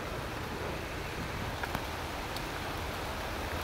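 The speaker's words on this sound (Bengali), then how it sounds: "অনেক জোরে বৃষ্টি।" Heavy rain pouring down outdoors, a dense, steady wash of noise throughout with no voices.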